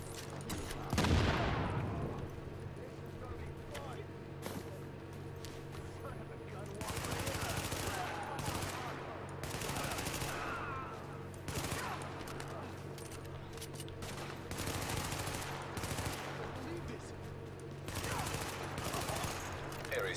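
Shotgun fire in The Division video game, a series of loud close blasts spaced irregularly over a steady low hum, with a voice talking between shots.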